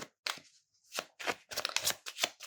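A deck of Lenormand cards is cut and handled during a card reading, giving several quick, close papery riffles and slaps separated by short silences.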